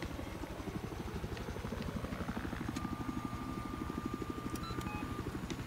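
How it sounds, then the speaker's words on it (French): Helicopter in a war video game flying close by, a steady loud rotor chop with fast even beats over an engine whine, continuous throughout with faint game tones. "il était où l'hélicoptère là sur mon radar?"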